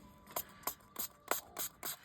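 Six quick, soft hisses from a spray bottle spraying light purple resin colorant, evenly spaced, each a short burst of mist in a quiet room.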